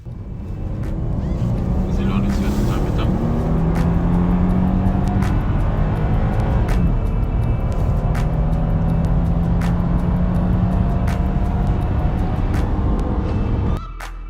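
A Porsche Panamera Hybrid's 3.0 TFSI engine drones steadily from inside the cabin, a continuous rising hum as the car speeds up on a straight road, then cuts off abruptly at the end.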